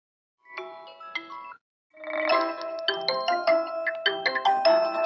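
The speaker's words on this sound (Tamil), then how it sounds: "அர்ஜுன், ஐ திங்க் உங்க ஃபோன் தான் அடிக்குதுன்னு நினைக்கிறேன்" A mobile phone rings with a bright melodic ringtone, a short burst then a pause before a louder, continuous run of repeating electronic tones, close and clear with no talking.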